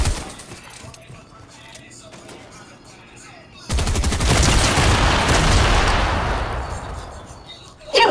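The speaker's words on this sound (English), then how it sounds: "Let's just use our C4 then" A C4 charge detonating in Fortnite: Battle Royale, a sudden loud blast that rolls into several seconds of crackling debris and rumble after a quieter stretch of game sounds.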